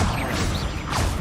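The Expelliarmus spell is cast in the Hogwarts Legacy video game, a short magical whoosh with a crackling impact and swishing sweeps, loud and close for about a second.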